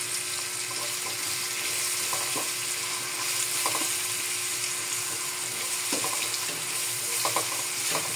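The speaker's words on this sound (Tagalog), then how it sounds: "medyo brown ang ating bawang, sunod naman natin ang ating luya" Garlic frying and being stirred in a pan, a steady close sizzle throughout with scattered clinks and scrapes of a utensil stirring, no voices.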